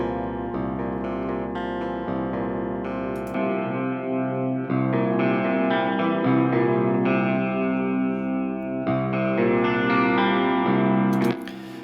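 Clean electric guitar played through an Aurora DSP Rhino amp plugin with a slow chorus; sustained chords ring out continuously with shimmering modulation at steady volume, no voices present.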